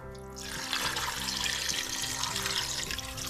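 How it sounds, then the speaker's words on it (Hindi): Water poured into a pot of washed mutton trotters, a continuous splashing, gurgling pour that starts strongly and keeps running steadily, close and clear with no talk. "ये अब मैं इसके अंदर पानी डालूंगी।"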